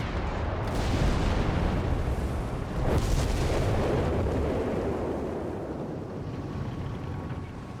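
A heavy explosion in the Company of Heroes 3 war game, fought between Wehrmacht and British forces, rolls out as a loud, sustained rumble with a second blast surging partway through before slowly fading.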